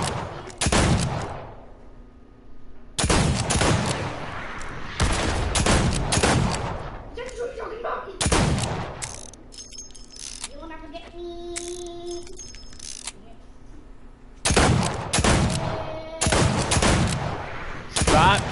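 Gunfire in Fortnite comes in loud, sharp volleys of rapid shots separated by quieter gaps. Faint game tones and effects sound between the bursts.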